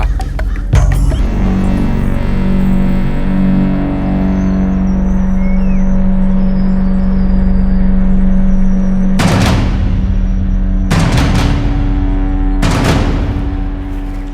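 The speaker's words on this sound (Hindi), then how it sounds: "सर गाड़ी आ गई।" A vehicle approaches and idles with a steady low engine drone throughout, joined by a few sharp broadband bangs near the end.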